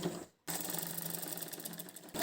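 A sewing machine stitches the lining of a baby frock made from a blouse piece, a fast, even whirring run that pauses briefly near the start and then continues steadily, close and moderately quiet.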